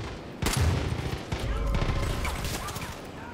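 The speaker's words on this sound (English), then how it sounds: "I'll just shoot him with a shotgun." Shotgun blasts boom in Far Cry 5, a sharp heavy report followed by dense rumbling gunfire and crashing that stays loud and near throughout.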